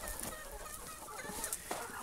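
Chickens on a small farm cluck in short, irregular bursts close by, several birds overlapping against a steady outdoor background with no talking.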